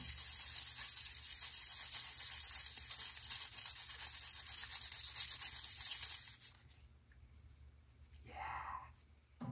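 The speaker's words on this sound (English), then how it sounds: "when you're using diamond sandpaper like this, you don't wanna like muscle it" Diamond sandpaper rubbed gently over a slipcast porcelain mug gives a steady, close, gritty scraping for about six seconds, then stops, leaving quiet with a short soft swish near the end.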